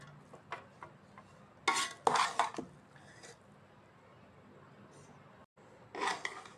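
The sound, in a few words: mixing cooked beef biryani rice in a pot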